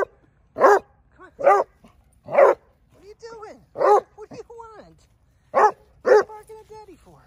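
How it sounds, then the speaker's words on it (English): A dog barks in short sharp bursts, about six loud barks spaced irregularly during an outdoor walk on grass, with a person talking softly between them. "What are you barking at me for?"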